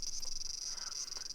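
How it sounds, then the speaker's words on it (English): Cicadas sing in summer in the If My Heart Had Wings video game, a steady high shrill buzz that stays faint and constant across the moment. "The cicadas are singing loudly, which is normal for this time of year."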